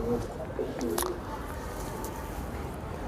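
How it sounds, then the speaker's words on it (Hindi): Punjabi pigeons kept as breeding pairs cooing softly in short low calls over a background hum, fairly close, with a brief rustle near the middle. "ये कबूतर है भाई।"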